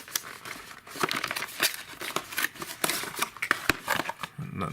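Plastic and paper packaging of a mini keyboard for an Android TV box being opened, a busy stream of close crinkling, rustling and tearing with sharp crackles throughout, no voices.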